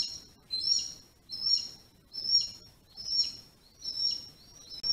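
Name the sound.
Harris's hawk calling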